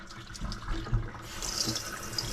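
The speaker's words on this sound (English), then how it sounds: "now I want to rinse them off in fresh water" Tap water runs steadily into a sink as razor clams are rinsed in fresh water, a continuous close splashing and trickling with no talk.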